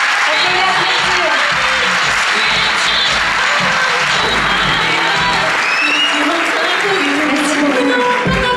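An audience at a Miss Côte d'Or beauty pageant applauds a candidate with loud, continuous clapping, mixed with cheering and a voice speaking over it.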